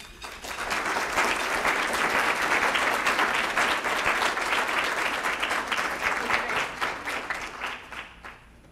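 A large audience applauds warmly to welcome Common Core expert Sandra Alberti before she speaks to Illinois legislators. The steady, dense clapping swells quickly, holds strong for several seconds, then tapers off near the end.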